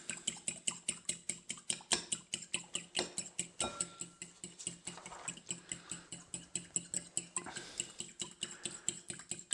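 Eggs are beaten with Tabasco sauce into an egg wash, giving a fast, even run of clicking taps against the bowl that continues steadily throughout, close up with no talk.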